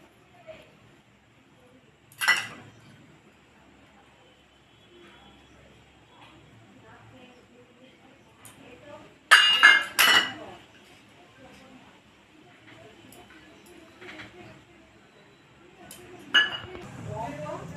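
A bowl being greased with oil gives a few sharp, bright clinks spaced several seconds apart. Soft handling sounds and quiet speech fill the otherwise hushed stretches.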